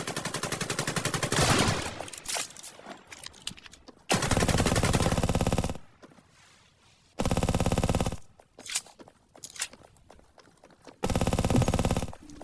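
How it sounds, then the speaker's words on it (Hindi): Rapid automatic gunfire from a gun in the mobile shooter Scarfall comes in several loud sustained bursts separated by short quiet gaps, close and dominant with no talk. "आज मैंने पहली बार इस गन को चलाई और इससे किल भी अच्छे हो रहे थे"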